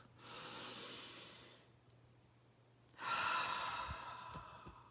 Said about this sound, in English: give yourself permission to breathe it out